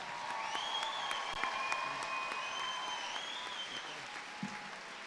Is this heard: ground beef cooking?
no